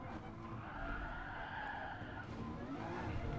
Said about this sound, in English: And then you gotta start braking for this turn.